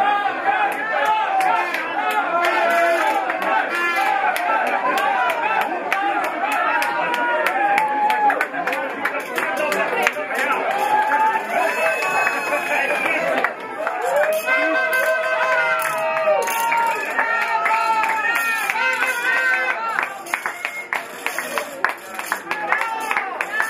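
Crowd at an airport welcoming Paralympic athletes, with dense overlapping chatter and intermittent clapping and cheering that runs steadily throughout, lively and close.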